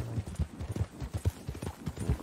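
Horse hooves clip-clop at a steady trot in the Red Dead Redemption 2 video game, a close, rhythmic run of dull thuds that continues for the whole stretch, with no talking.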